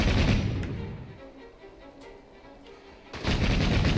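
Gunfire in the video game Assassin's Creed Syndicate: a heavy burst of shots at the start, a quieter stretch, then another loud volley near the end.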